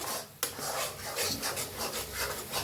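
Ingredients are stirred continuously while roasting in a pan, producing a close, steady scraping and rubbing that swells and fades rhythmically, with a single sharp knock near the start.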